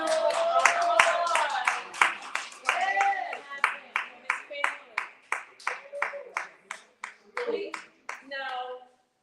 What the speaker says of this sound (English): Give our youth an honorable applause.